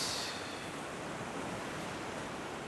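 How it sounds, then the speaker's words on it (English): Ocean waves wash onto a shore at the seaside, a steady, loud broadband rush of surf with a brighter splash at the start and no talking. "Seascape photography, you've really got to wait for the waves to do what it is you want them to do."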